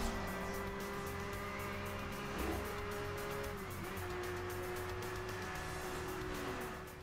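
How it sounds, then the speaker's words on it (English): A video-game race car drives along a road against rival cars, its engine droning steadily at a high whine with shifting pitch sweeps, continuous and fairly loud for several seconds. "You have a car in the road where you race other cars that are on the same road"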